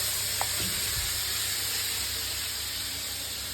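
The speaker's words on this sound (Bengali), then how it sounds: "আমাকে কিশমিশগুলো মানে কাজুগুলো ভেজে দিচ্ছে" Cashews frying in a pan give a steady, close sizzling hiss that holds evenly throughout, with no talking.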